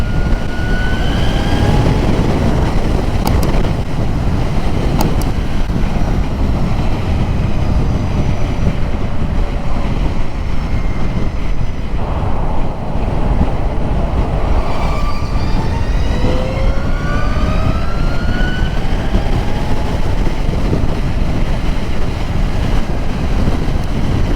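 A Zero SRS electric motorcycle being ridden, a loud, steady rush of wind and road noise with rising and falling whine tones as it accelerates, continuous throughout with no speech.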